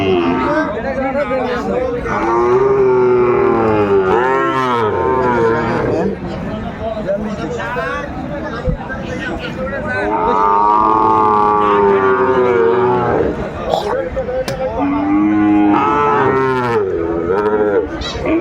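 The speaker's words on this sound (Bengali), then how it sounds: "সাইওয়ালার ষাঁড় বাচ্চা আমরা দেখছিলাম বেশ সুন্দর" A Sahiwal bull calf at a cattle market lets out long, loud, drawn-out moos, one after another, over a busy crowd chatter and nearby talking.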